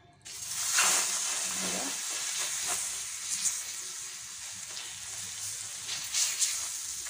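Methi besan chilla batter sizzles on a hot oiled tawa, a steady close hiss that starts abruptly as the batter hits the pan and carries on with small crackling bursts, no talk.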